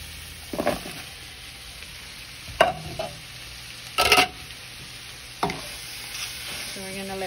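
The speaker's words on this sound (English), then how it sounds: "A little saute in here." Cabbage sauteing in a pan for pancit, a soft sizzle under several sharp clanks and scrapes of a utensil stirring against the pan.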